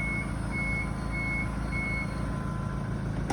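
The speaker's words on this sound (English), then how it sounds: "bring the ramp up using the up button. It'll bring up the front ramp and then it will bring the hoist into the car" Wheelchair ramp and hoist on a Toyota Hiace diesel van lifting up, a steady low mechanical hum with a repeating high warning beep, fairly close, no talk.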